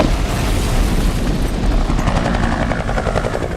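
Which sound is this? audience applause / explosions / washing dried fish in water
explosions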